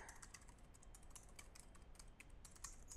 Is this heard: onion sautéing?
no